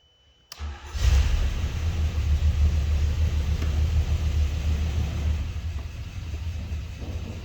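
A Jabiru 3300 aircraft engine, rebuilt with forged pistons, catches with a sudden burst on a test cell, then settles into a steady, deep rumbling idle close by, idling low.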